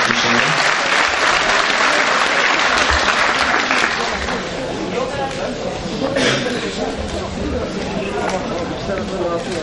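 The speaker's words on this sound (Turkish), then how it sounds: "Hepsine değerli misafirlerimize bir alkış alalım" Applause from an audience for guests at a sports club's religious holiday evening program, a dense, continuous clapping that stays loud throughout with faint crowd murmur beneath.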